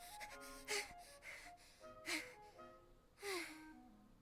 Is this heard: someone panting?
yes